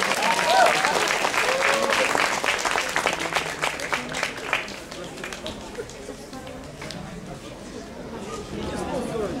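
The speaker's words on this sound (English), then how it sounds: "E ringraziamo i vostri applaudimenti." An audience at a Hungarian cosplayers' panel at the Aniventure 2013 convention claps loudly at first, then the applause thins and fades under crowd chatter.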